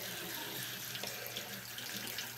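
Cold water runs from a tap into a container, a steady close hiss and splash that continues throughout with no talking.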